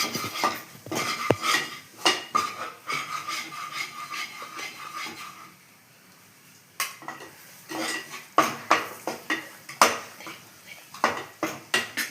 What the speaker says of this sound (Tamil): கோதுமை மாவு போட்டிருக்கேன். இதை வாசனை வர வறுக்கணும்